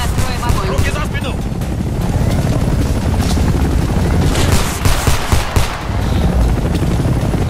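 Combat in the video game Homefront: rapid gunfire bursts and shots crackle over a constant loud helicopter-like roar, with shouting voices mixed into the chaos.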